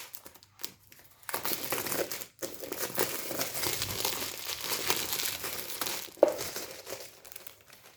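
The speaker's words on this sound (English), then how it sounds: "They just have this kind of plastic packaging which I need to" Plastic packaging around a Belifu hair straightener brush is torn open, with steady crinkling and crackling for several seconds, close and fairly quiet, and a brief sharper rustle near the end.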